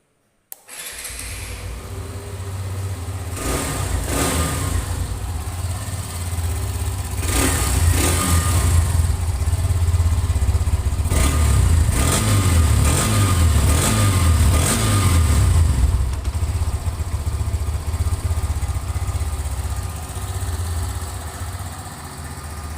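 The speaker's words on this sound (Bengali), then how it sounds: "তাহলে বাইকটির সাউন্ড কোয়ালিটি দেখি একটু" A used motorcycle with about 7065 km on it runs steadily at a continuous idle close by, its engine note rising in several rev bursts through the middle before settling back to idle.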